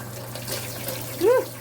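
Cold water runs from a kitchen tap while an eel is cleaned, making a steady close hiss and splash with a brief vocal sound near the end.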